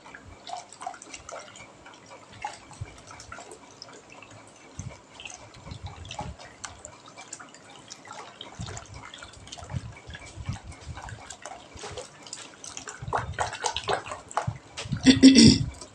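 A milk mixture for setting yogurt is stirred in a glass bowl, giving soft intermittent liquid sloshes and light clinks that grow louder and busier toward the end.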